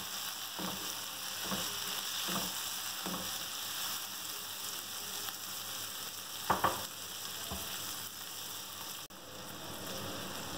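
Chopped tomatoes frying in a pan for mixed dal, a soft continuous sizzle with occasional light stirring taps and one brief clatter near the middle, fairly quiet and close, with no one talking.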